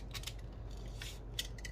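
Crisp snipping of scissors cutting paper, several short bursts spread across the clip, close and fairly quiet over a low background hum.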